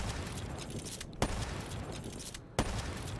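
Gunfire in the video game Black Ops 3 plays as a dense, continuous crackle of automatic shots, broken by two sharper, louder reports.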